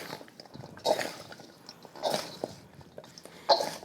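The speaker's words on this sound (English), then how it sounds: "Now let's stir it up." Marinated chicken with adobo, oregano and olive oil being stirred, three wet, squishy pulses spaced about a second apart, close and fairly loud without any talk.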